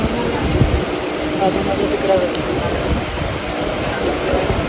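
A passenger train rumbles along at a station platform, a steady low roar and rattle of wagons throughout, with people talking over it.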